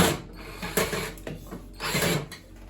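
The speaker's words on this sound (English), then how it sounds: "get the bottom screws for the panel in first" Screws go into the bottom of a washing machine's front panel, a few close ratcheting clicks and short metallic turning bursts separated by brief pauses.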